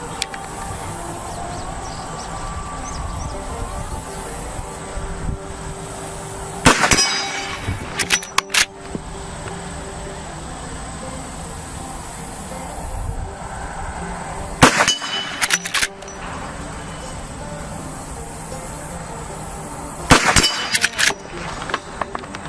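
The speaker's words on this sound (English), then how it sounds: "we put 3 shots down range there, all of them dead center right in the middle of those metal plates" Rifle rounds from a lever action rifle striking steel target plates at 50 yards, heard as three separate bursts of sharp metallic clangs and pings at roughly 7, 15 and 20 seconds over a quiet outdoor background.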